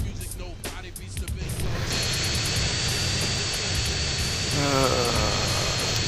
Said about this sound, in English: And the jet is still following me, albeit not very well.